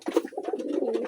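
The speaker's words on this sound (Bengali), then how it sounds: "দেখো গিরিবাজ কবুতর আছে আস্তে আস্তে" Giribaz pigeons coo close by in a soft, rolling, throaty burble that lasts about a second with no other sounds.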